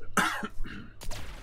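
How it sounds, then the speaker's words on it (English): A single close cough bursts out, followed by a short second hack and a rough throat clearing, loud and alone in a quiet room during an Anthem gaming session. "Oh, this cough."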